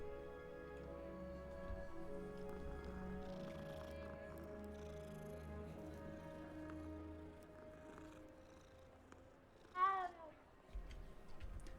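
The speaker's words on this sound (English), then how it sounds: "Cat." A cat in the Hogwarts Legacy video game gives a single short meow near the end, heard over a quiet, droning loop of repetitive game music.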